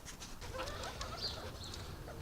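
Chickens cluck softly at a distance on a farm, a few faint clucks and calls over low outdoor background noise, with no one speaking.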